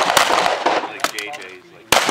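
Loud, close gunshots fired in quick succession, sharp cracks separated by short gaps, with a voice speaking briefly between them.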